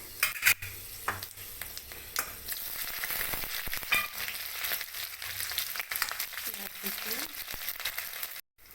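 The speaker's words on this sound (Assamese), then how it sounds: "কেৰাহী বহাইছোঁ, পাঁচফোৰণ দিছোঁ আমৰা টেঙাৰ কাৰণে" Panch phoron (five-spice mix) sizzling and crackling in a hot wok, with stirring scrapes and clinks, quiet and close, voices murmuring faintly underneath.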